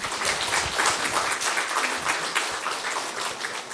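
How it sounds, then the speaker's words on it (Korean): Sustained congregational applause fills a Sunday worship service at Daegu Suseong Church, marking a new-member course certificate presentation; dense, even clapping from a large room holds steady throughout without talk. "크게 박수해 주시기 바랍니다."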